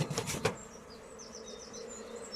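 Bees buzz in thin, wavering tones close by after a few brief handling knocks at the start, as a sack is opened at a hive during chestnut honey season.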